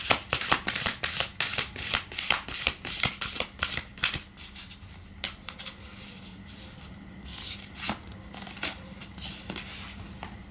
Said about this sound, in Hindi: एक और रीडिंग लेंगे, मतलब कार्ड्स निकालेंगे।